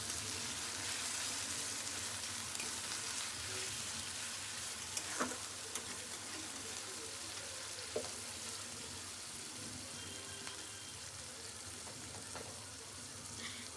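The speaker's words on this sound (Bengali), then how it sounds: "এখানে আদা রসুন বাটা, জিরা বাটা আর পেঁয়াজ বাটা দিয়ে ভালোভাবে নেড়েচেড়ে মশলাটাকে একটু হালকা কষিয়ে নিতে হবে।" A ginger, garlic, cumin and onion paste with salt fries in a pan, giving a soft continuous sizzle with a few light scraping stirs of a spoon, fairly faint and without voices.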